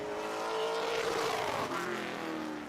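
A race car roars past at speed on a qualifying lap at Owosso Speedway, the engine note loud and sustained, rising then fading slightly as it moves away.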